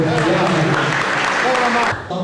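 Loud applause from an audience at a journalism award ceremony, dense clapping heard together with a speaking voice for about two seconds before dropping off.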